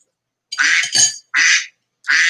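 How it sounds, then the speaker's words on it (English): A duck quacking loudly and close, three harsh raspy quacks in quick succession with short silent gaps between them. "That is our third duck."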